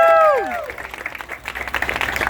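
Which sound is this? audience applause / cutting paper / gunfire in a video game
audience applause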